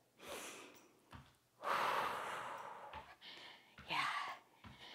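Heavy, rhythmic breathing during a low-impact cardio workout, with loud huffing exhales and snorts in repeated bursts, close to the microphone.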